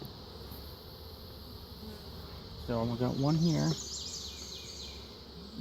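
Honeybees hum in a steady, low drone at an opened hive during an inspection, close by, while a person speaks briefly over the buzzing.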